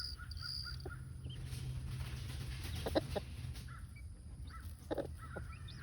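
A mother hen on a farm makes short soft clucks and calls scattered over a low steady background hum, with a few sharper chirps from nearby chicks; faint and fairly close.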